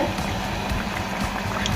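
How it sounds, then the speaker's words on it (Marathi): Tur dal kachori frying in hot oil in a small kadai, giving a steady, dense sizzle and bubbling that stays even throughout, close up and with no talking. "इकडे तेल गरम, आणि आता बनवूया कचोरी. हे टाकले कढईमध्ये"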